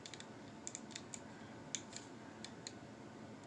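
Small plastic parts of a Transformers Kingdom Voyager Class Cyclonus toy snapping and clicking into place, a scatter of sharp, light ticks at uneven intervals with one louder click, close up and quiet against a soft background hiss.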